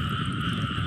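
Frogs croaking steadily outdoors near a frog trap, a continuous close chorus of buzzing calls with no talking.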